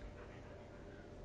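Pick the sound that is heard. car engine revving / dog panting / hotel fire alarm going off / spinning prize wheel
dog panting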